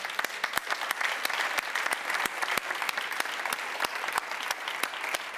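Audience applause at a DLD conference session, a brisk steady patter of many hands clapping with a few sharper individual claps standing out, continuous and without speech.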